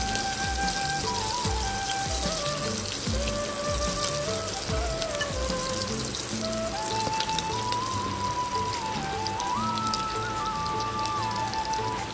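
Steady, heavy monsoon rain falls continuously on a surface throughout, with a soft melodic tune playing underneath the constant patter.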